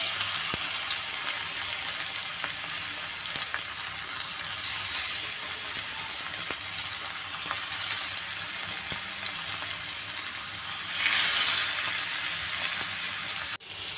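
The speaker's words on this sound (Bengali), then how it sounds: "তেলটা গরম হয়ে আসলে এর উপরে আমি বাঁধাকপি যে পিসটা করে রেখেছি সে বাঁধাকপি পিসগুলোকে আমি এক এক করে এর মধ্যে দিয়ে দিব" Cabbage pieces sizzle steadily in hot oil in a frying pan, a continuous close frying hiss with faint clicks, swelling briefly near the end before a sharp cutoff.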